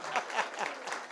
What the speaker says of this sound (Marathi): जरा जोरात टाळी वाजवा, जोरात जोरात.